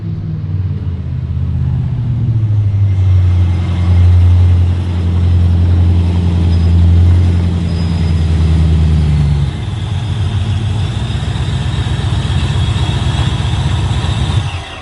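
A Holden VL Commodore engine idles steadily up close, a loud low rumble with a deep, uneven throb that shifts character partway through, with no talking.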